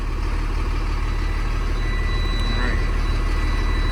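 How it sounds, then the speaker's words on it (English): The Mercedes engine of a 2004 Thomas FS65 school bus runs at a steady idle, loud and close, as a continuous low rumble with no breaks. "that, my friends, is why I love the Mercedes engine. It'll almost always start."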